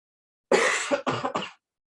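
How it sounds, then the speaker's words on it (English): A person coughs three times in quick succession, close and loud, the first cough longest, followed by silence. "I keep coughing."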